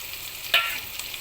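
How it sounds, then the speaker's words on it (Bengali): Goat brains stirred and frying in a pan: a steady low sizzle with one brief, sharper scrape of stirring near the middle, close and fairly quiet, no talk. "মগজগুলোকে আমি নেড়ে মিশিয়ে 5 মিনিট ভেজে নেব।"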